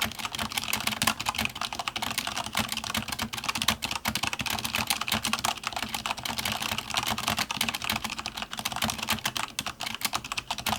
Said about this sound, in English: here they are against the Cherry MX Reds on the K95, and I've put O-rings underneath the keycaps